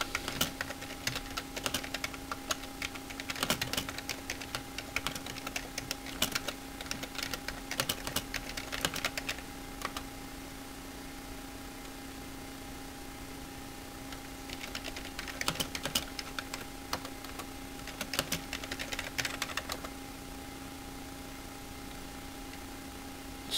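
Typing on a computer keyboard, close and steady, in bursts of rapid key clicks with a quiet pause in the middle before resuming, with a faint steady hum underneath.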